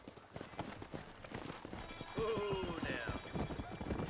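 A horse in the Western video game Red Dead Redemption runs with steady rhythmic hoofbeats, joined midway by a brief whinny-like call under game music.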